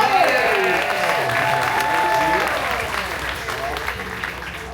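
An audience at a theme park horror makeup show breaks into loud, sustained applause. The clapping is steady and close, with voices over it, and it fades slightly toward the end.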